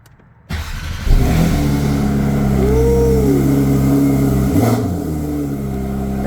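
A Porsche 992 911 GT3 RS cold-starts up close: a short crank, then a sharp flare of revs that settles into a loud, steady, high idle continuing to the end, with a brief dip midway.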